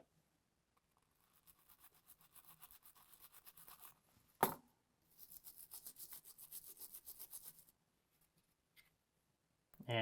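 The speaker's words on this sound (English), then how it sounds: "I'm gonna get down in here now with a toothbrush" Bristles of a toothbrush scrubbing inside a PS5 console that had liquid poured into it, in two stretches of quick, soft scratchy strokes separated by a sharp knock, close to the microphone.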